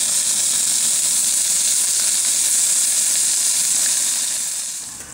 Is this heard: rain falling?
no